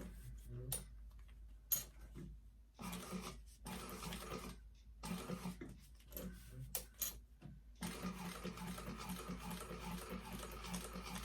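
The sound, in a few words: sewing machine stitching tote bag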